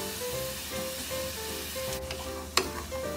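Onion and bacon fry over low heat in a mess tin at a campsite, giving a soft, steady sizzle throughout, with one sharp metallic clink near the end.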